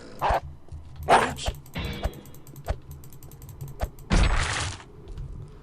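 A dog in the video game Postal 2 barks in a few sharp, separated yaps amid clicking and clattering game noises, fairly close and with no talk over it.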